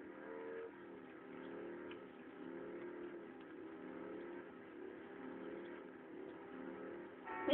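Car engines in the Driver 2 video game drone and rev steadily as cars drive into walls, a continuous mid-pitched engine sound with a brief louder burst at the very end.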